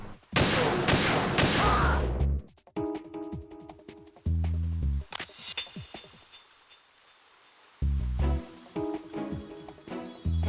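Gunfire in the video game Metal Gear Solid 2, a string of sharp synthetic shots in uneven bursts mixed with game music and effects, loud and up front.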